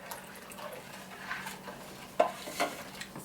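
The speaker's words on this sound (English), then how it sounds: "Stir it." A spoon stirring a homemade ginger beer mixture in a pot, giving soft scraping and sloshing strokes with a sharper clink near the end, fairly quiet and without speech.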